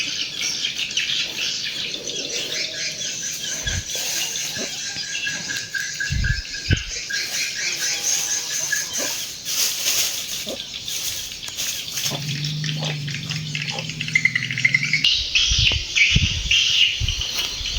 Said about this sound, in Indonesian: Tuh suara burungnya itu dari atas sana ya.